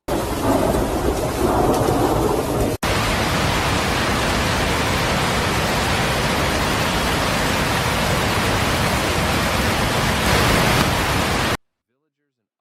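Heavy rain pours steadily with rumbling thunder during the Guangxi floods, a dense roaring wash of rainfall broken by a sharp cut, then continuing loud before stopping abruptly; a voice sounds faintly beneath.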